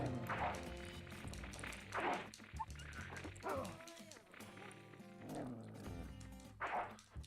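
Dog in the stealth game Tenchu giving several yips and short barks at intervals amid game sounds and music, someone talking over it.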